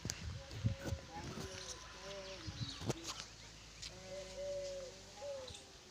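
Pigeons coo with soft, low repeated calls in a quiet space, with scattered knocks and light movement noises in between.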